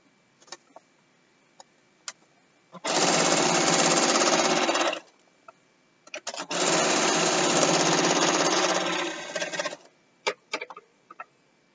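Sewing machine stitching binding strips together in two long steady bursts of rapid mechanical running, separated by a pause, with small clicks and handling noises before, between and after.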